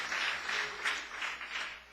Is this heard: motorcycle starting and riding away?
no